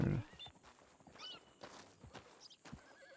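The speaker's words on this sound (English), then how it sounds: "Where's this horse that I'm hearing?" A horse neighs briefly in Red Dead Redemption 2 amid soft clopping hooves and scattered movement sounds, with a faint voice in the background.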